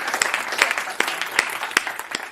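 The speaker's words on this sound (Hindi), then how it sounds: "भाई संदीप अनुरागी को जोरदार तालियों से आमंत्रित करिए।" An audience applauds a poet at a humorous Hindi poetry performance, with dense, steady clapping throughout that swells slightly in a few sharp bursts.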